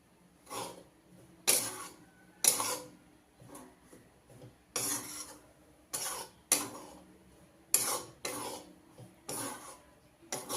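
A spoon scrapes and knocks rhythmically through besan, gram flour roasting in ghee, in a pan over low heat for ladoos, about a dozen regular strokes, close and crisp.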